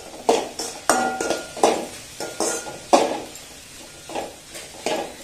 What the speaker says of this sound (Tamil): ஒரு நிமிஷம் நல்லா வதங்கட்டும்.